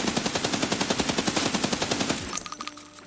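Rapid automatic fire from an MDR rifle in Escape from Tarkov, a steady burst of evenly spaced loud shots for about two seconds, then a mechanical clatter and ringing tail as the firing stops.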